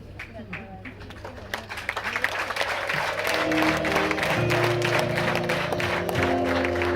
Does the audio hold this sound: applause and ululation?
yes